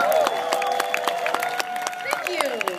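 An outdoor festival crowd at Horning's Hideout claps and whoops for a fire hoop dancer, scattered claps with whistles and cheers, while a voice talks over them.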